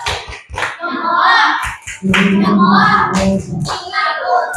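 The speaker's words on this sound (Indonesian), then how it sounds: "tepuk tangan untuk kelompok 4. Silakan duduk. Tepuk salut." Students in a classroom clap a rhythmic tepuk salut chant for group 4, sharp hand claps in quick bursts mixed with voices chanting along.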